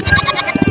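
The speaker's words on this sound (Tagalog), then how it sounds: "Ayan, ito yung pinakamalaking kambing ngayon dito." A large two-year-old buck goat at a livestock market gives a couple of short, loud, nasal bleats close by, with no talking.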